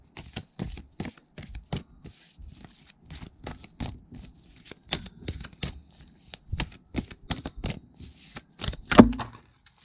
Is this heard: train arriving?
no